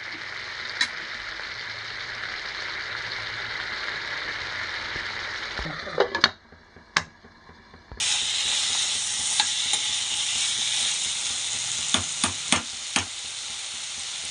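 Ivy gourd and chana being stir-fried in a pan, a steady broadband sizzle with a few sharp spoon or spatula knocks, briefly quieting midway before the frying resumes louder.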